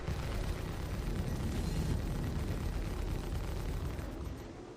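Corsair ship exploding in Star Citizen, a dense, sustained roaring blast with a heavy low rumble that holds steady for several seconds before tapering off, with no speech.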